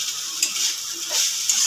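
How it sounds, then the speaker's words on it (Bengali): Chicken is stirred in a pan to cook off its juices, a steady close sizzle with scraping strokes of the spoon repeating throughout, no talking. "এইভাবেই নেড়ে নেড়ে রসটা শুকিয়ে নেব।"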